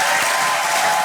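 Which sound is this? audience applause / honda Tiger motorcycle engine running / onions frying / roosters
audience applause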